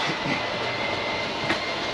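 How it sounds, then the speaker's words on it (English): A 2022 Wildwood 24RLXL travel trailer's slide-out motor runs as the slide extends, giving a steady mechanical whirring hum with no voices. "press and hold the top of that and your slide will make its way out"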